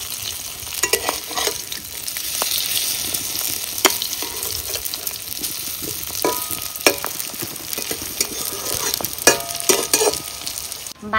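Pieces of silver carp fry in a pan for a village-style fish curry, a loud, steady sizzle broken by frequent scraping stirs, with no talking.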